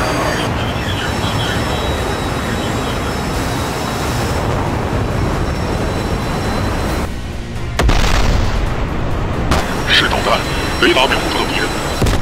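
Missiles launch and explode in a naval carrier strike group combat video game, with a loud continuous roar, booming hits and sharp bursts near the end while radio voices talk over the action.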